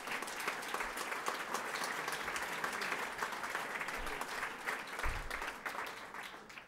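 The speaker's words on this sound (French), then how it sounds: "on peut déjà les applaudir chaleureusement" An audience at a Geneva talent and entrepreneurship evening applauds the honoured entrepreneurs with sustained, fairly soft clapping that swells slightly and fades near the end.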